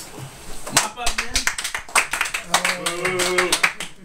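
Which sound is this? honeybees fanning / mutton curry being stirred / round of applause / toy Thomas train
round of applause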